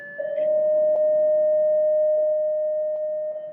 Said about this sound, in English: the dispatch just came in over the radio. That's the sound that you heard